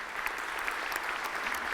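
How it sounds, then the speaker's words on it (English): A seated audience at a panel debate claps steadily in thick, even applause that fills the whole short stretch. "Round of applause for our speakers."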